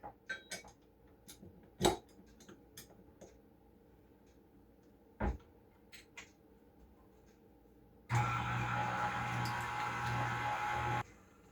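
Ingredients get mixed in a kitchen bowl, with scattered faint clinks and taps of a utensil against the bowl, then a few seconds of louder continuous whirring near the end.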